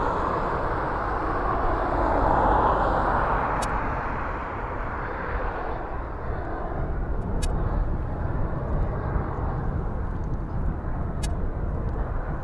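A cargo aircraft arriving at East Midlands Airport at night, a broad, steady jet engine roar that swells and holds loud for the whole stretch, with a few faint sharp ticks over it.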